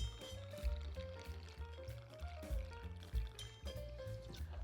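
Dead Man's Fingers pineapple rum poured into a measure for a cocktail, a soft liquid trickle over steady background music with no talking.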